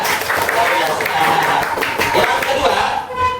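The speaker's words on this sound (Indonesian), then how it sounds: "tepuk tangan buat saya" A classroom group clapping, a loud, dense, continuous patter of many hands with some voices mixed in, fading slightly at the very end.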